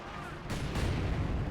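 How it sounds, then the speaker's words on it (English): An artillery barrage in the Company of Heroes 2 strategy game rumbles as a dense, low roll of distant shell impacts, with a sharper burst of explosions partway through, continuing under the game's ambience. "feeling the barrage raining down death from above here"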